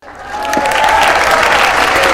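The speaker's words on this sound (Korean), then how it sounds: "여러분 다시 한번 박수로 환영해 주시기 바랍니다" Audience applause at a humanities lecture event, rising quickly into a steady, dense round of clapping from a crowd, close and loud, with faint voices mixed in.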